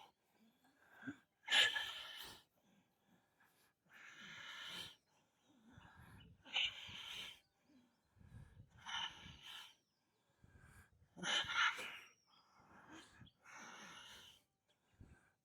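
Audible exhales from a person holding a core-strengthening vinyasa yoga pose, about seven breathy puffs spaced a second or two apart, close and soft against a quiet room.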